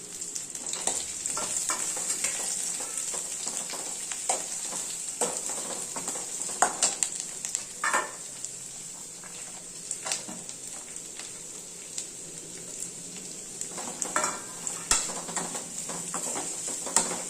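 Curry leaves crackling in a pan with fried chilies, onion, tomato and ginger for a street-style tomato onion chutney: a close, continuous hiss punctuated by spatula scrapes and light clinks of metal on the pan.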